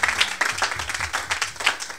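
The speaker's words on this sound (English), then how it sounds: "Give a clap of faith to Jesus Christ." A church congregation claps together at an evening service, with dense, rapid, close hand claps that carry on steadily throughout.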